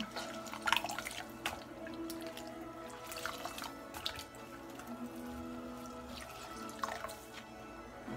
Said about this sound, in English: I have a little washcloth here. Just gonna wipe her up a little bit.